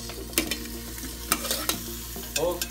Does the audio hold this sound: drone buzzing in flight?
no